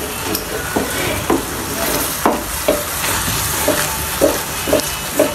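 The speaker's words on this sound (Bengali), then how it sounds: "এই যে ওনার নুডলস রান্না হয়ে আসতেছে।" Noodles frying in a hot pan with a spoon stirring them, a steady loud sizzle broken by regular scraping strokes about every half second, close up with no talk.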